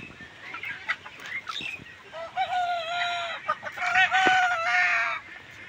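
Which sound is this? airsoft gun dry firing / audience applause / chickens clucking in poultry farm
chickens clucking in poultry farm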